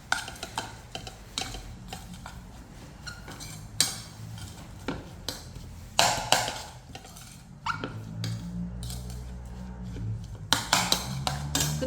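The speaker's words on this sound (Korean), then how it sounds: "골고루 섞어주세요." Seasoning is stirred and mixed evenly in a bowl for cucumber kimchi (oi sobagi), with repeated clattering utensil scrapes and knocks in irregular bursts, close and fairly loud, with a voice talking in places.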